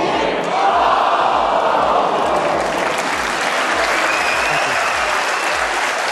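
Crowd at the snooker Players Championship bursts into sustained, steady applause, loud and dense throughout with scattered cheers mixed in.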